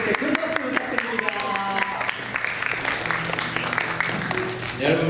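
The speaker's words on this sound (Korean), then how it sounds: "여러분 다시 한번 우리 선생님께 큰 박수 부탁드립니다." A church high-school youth service audience applauds the teachers. Scattered clapping and crowd noise continue under a speaking voice, and musical tones ring in the background.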